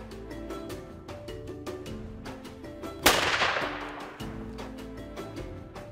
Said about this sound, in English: rifles are checked for accuracy at altitude.